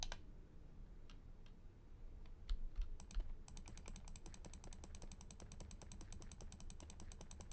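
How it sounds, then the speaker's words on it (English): Rapid clicking of computer keys during Minecraft play: scattered taps at first, then a dense, steady run of fast clicks close by with no talking. "Sorry about the rapid clicking sounds."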